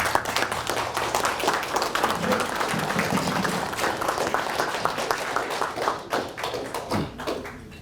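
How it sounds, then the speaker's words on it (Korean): An audience at a lecture claps to welcome the speaker, a dense patter of many hands that stays steady for several seconds before thinning out toward the end, with a few low thumps mixed in. "박수로 청해 주시죠"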